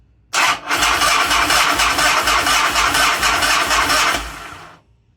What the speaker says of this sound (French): On va démarrer la moto jusqu'à ce qu'elle cale.